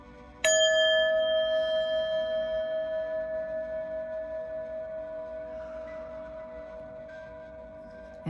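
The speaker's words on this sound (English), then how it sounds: "I'm gonna hit the bell real quick." A single bell strike rings out sharply and then sustains with a clear, slowly fading tone and soft pulsing beats for several seconds, struck to clear energy, with a second faint tap near the end.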